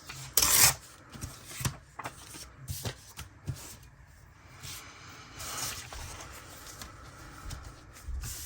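Paper from an old letter being cut with scissors for a junk journal, close and quiet: a scattered series of short snips and rustling rubs, with one sharper crisp burst near the start and irregular pauses between cuts.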